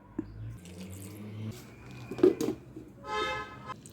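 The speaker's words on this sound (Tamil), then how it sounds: "கொஞ்சமாக தண்ணி சேர்த்திக்கலாங்க இந்த சட்னி அரைப்படுறதுக்காக." Water is poured into a mixer jar holding garlic, seedless tamarind and rock salt for garlic chutney. It comes as a brief, faint splash near the end, after a few soft clinks and knocks in a quiet kitchen.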